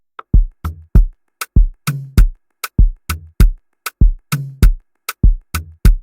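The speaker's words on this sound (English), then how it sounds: "I'm just gonna play the drums." Simple Afro bounce drum groove of sharp rim shots and deep kick hits in a repeating syncopated pattern, crisp and close with nothing else underneath.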